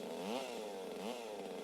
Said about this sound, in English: So now it's time for the chainsaw duel.